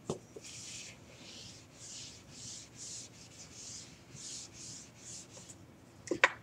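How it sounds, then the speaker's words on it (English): Eraser rubbing across a board, a series of soft rhythmic back-and-forth swishes, about a dozen strokes, faint and close, ending with a couple of light knocks. "Okay, so now I'm going to erase it."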